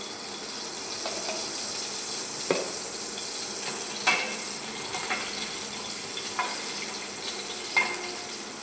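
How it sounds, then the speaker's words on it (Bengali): Sundrop oil and a little ghee hiss steadily in a very hot pan for egg biryani, a soft, even sizzle broken by occasional sharp crackles and pops. "এবারে আমি এখানে দিয়ে দিচ্ছি সানড্রপ আর দিচ্ছি অল্প করে ঘি।"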